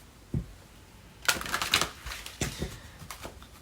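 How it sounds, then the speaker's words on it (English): A deck of tarot cards is shuffled close by, with quick riffling and soft slaps in short bursts, and no talk over it. "1 more shuffle here"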